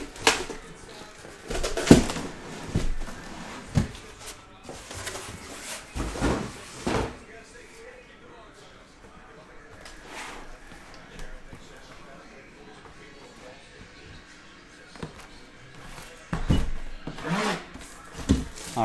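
A cardboard case box of Panini Eminence basketball trading cards is handled and opened, giving scattered sharp knocks, thumps and scrapes, close, with someone talking throughout.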